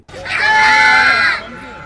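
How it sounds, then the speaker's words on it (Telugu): A single loud, high-pitched shout lasting over a second, a voice yelling at an echo point in Munnar with a sustained tone that cuts off abruptly. "ఇక్కడ పిల్లలు అరుస్తున్నారు గమనించండి"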